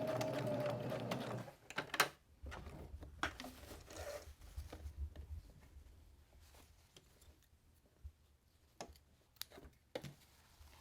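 A sewing machine back stitches across a seam on a purse made from neckties, a short burst of rapid stitching that stops, then scattered small clicks and handling sounds in a quiet room.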